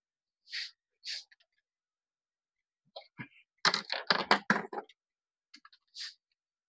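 Several sharp key clicks from a PC keyboard, a couple of isolated presses and then a quick burst of rapid taps, pressing the Delete key at power-up to reach the BIOS; close and fairly quiet.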